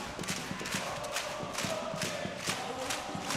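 An esports arena crowd at the VCT Ascension grand final roars in a sustained, far-off wash of cheering, punctuated by rhythmic thumping claps or stomps.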